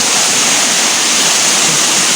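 Dirty water runs down a stream from upstream toward a bathing spot fed by a spring, with a steady, loud broadband rush of flowing water and no pauses.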